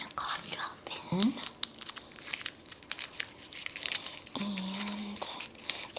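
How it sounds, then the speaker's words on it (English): A cough drop wrapper crinkles and tears in close, quiet detail, with soft crackling bursts and a brief squeak of plastic amid low background hiss in a candlelit ASMR setting. "And I'm going to start by putting a cough drop in."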